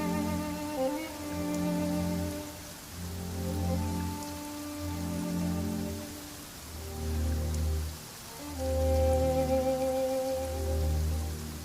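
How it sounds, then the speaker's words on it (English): Rain patters steadily on a surface in a video game beneath a slow, sustained musical backdrop, the drops soft and continuous with no voices. "Taking a stroll in the middle of a downpour certainly rouses the spirit."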